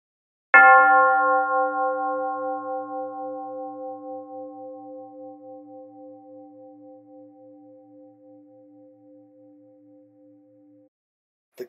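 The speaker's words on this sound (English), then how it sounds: "The clinking and the clanging and the jingling and the jangling of the bell grew louder and louder and louder." A single bell is struck once and rings out alone with a bright, clanging attack, then a long sustained hum that slowly fades over about ten seconds before a faint knock at the very end.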